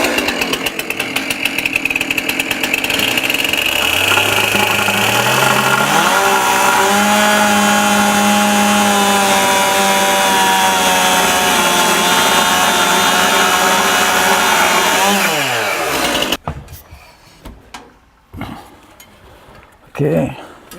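A chainsaw tapers the end of a wooden floor joist, a loud close engine snarl rising and bogging as it bites for about fifteen seconds before cutting off, followed by quieter clatter and brief voices.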